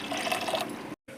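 Water pours steadily into a cooking pot of boiled chickpeas for channa masala. The close, bubbling liquid sound lasts about a second, then cuts off abruptly.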